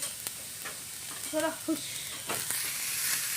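Food fries in a pan for egg rolls, a soft steady sizzle with a few stirring clinks and a brief voice mid-way, close and quiet.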